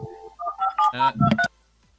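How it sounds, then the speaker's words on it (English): A phone goes off with a quick run of electronic tones and beeps, close and fairly loud, ending abruptly into quiet. "Sorry, that was my phone."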